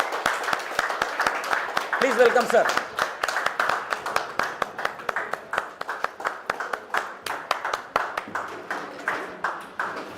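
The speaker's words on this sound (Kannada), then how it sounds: "ಅವರನ್ನು ನಿಮ್ಮೆಲ್ಲರ ಜೋರಾದ ಚಪ್ಪಾಳೆ ಮೂಲಕ ಅವರನ್ನು ನಾನು ವೇದಿಕೆ ಆಹ್ವಾನಿಸ್ತಾ ಇದ್ದೇನೆ" An audience claps in a steady, even rhythm to welcome the MD onto the stage at a bumper draw event, while an announcer speaks over the claps.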